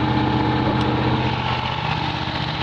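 A Miller Legend 302 welder generator engine holds a steady 1800 RPM, giving a constant, even droning hum with a fixed tone throughout and no voices.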